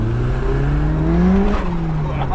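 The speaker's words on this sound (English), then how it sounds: "Wheel spin, not used to that after the Subaru" A radio-controlled RS500 Cosworth model car spins its wheels, giving a loud, steady high whine with rising pitch, heard close with a little talk underneath.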